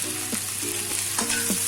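Capsicum frying in a pan for restaurant-style chilli chicken, a steady close sizzle with a few scraping stirs of a utensil against the pan, no talking.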